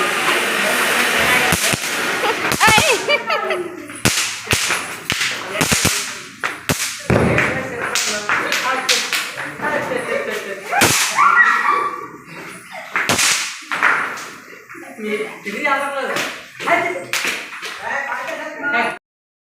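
Sharp Diwali firecracker bangs go off irregularly, some close and loud, with crackling and voices in between.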